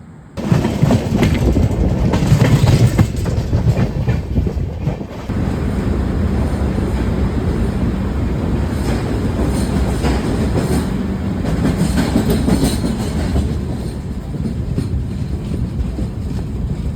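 An AC local train near Panvel, on a Mumbai to Goa route, rumbles loudly and close with rhythmic clickety-clack of wheels and gusty wind buffeting the microphone throughout, no talking.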